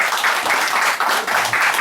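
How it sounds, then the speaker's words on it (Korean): Warm applause from a small crowd at an alumni friendly baduk tournament in a Jamsil go club, brief and dense with slight swells. "다시 한번 뜨거운 박수 부탁드리겠습니다"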